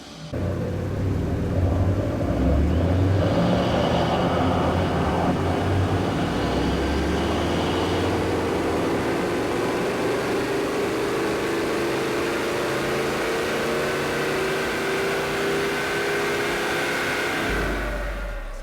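A Holden Colorado pickup with a 3-inch exhaust and remap roars steadily at high revs on a dyno for nearly the whole stretch, pitch climbing gradually, loud and close, then cutting off near the end.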